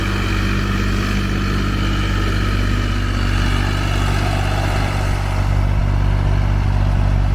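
Tractor pulling a thirteen-tine cultivator through a dry field, its engine a loud, unbroken, steady drone close by for the whole stretch.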